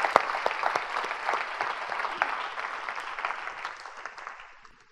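A church congregation at a marriage seminar breaks into applause, a dense wash of clapping with sharper individual claps standing out, steady at first and then gradually fading toward the end.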